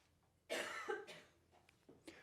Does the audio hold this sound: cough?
yes